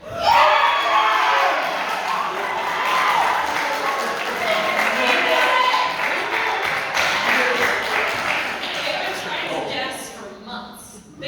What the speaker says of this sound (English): They're screaming that they knew it.